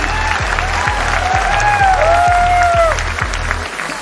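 Strong applause from a crowd at a large celebration event, a steady wash of clapping with a rhythmic beat of music underneath and a voice talking over it, fading slightly at the end.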